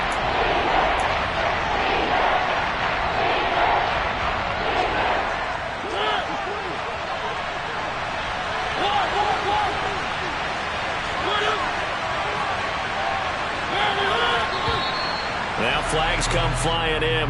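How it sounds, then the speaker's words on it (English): A loud, steady roar from a stadium crowd at a Washington versus Atlanta Falcons football game swells and persists throughout, with a commentator talking over it. "The crowd's not doing that O-line any favors"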